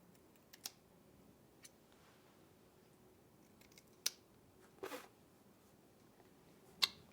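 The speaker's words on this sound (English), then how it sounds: "And now we're going to use the scissors for part 2, which is the mustache." Scissors snipping a mustache along the lip line, a few faint, sparse crisp clicks spaced irregularly in an otherwise quiet room.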